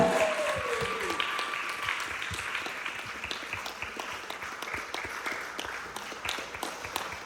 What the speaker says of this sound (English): Another round of applause for Riley!